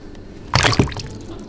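A small toy sea creature drops into water with a single quick splash and a short trailing slosh, close and loud in an otherwise quiet room.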